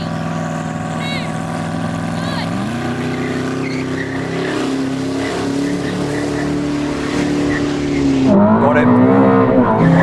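Ferrari SF90 XX and Koenigsegg Regera accelerating side by side in a drag race, a loud steady engine drone that climbs in pitch through gear changes with a sharper surge near the end, while a voice speaks briefly over it.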